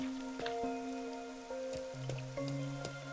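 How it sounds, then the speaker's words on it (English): Rain falls in the video game Master Detective Archives: Rain Code as a steady, soft patter, with sustained musical tones and a few sharp accents over it. "Rain is nice. I am a fan."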